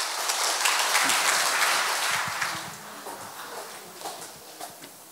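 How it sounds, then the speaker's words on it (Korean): Audience applause at an evening concert in Daegu greets a master folk singer taking the stage, a dense burst of clapping that swells early and then thins and fades over several seconds. "박수광 명창을 박수로 맞아주시기 바랍니다."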